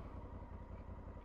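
A 2020 Honda Africa Twin motorcycle with a manual transmission, out on a Sunday morning road ride, gives a brief steady low engine rumble close by, with no talking.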